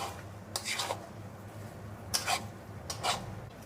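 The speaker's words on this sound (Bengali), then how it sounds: "এবার চিকেন কিমার সাথে মটরটা মিশিয়ে ভালো করে কষিয়ে নেবে।" A spoon scrapes and stirs chicken keema with peas frying in a pan. Three brief rasping strokes sound close over a low steady background.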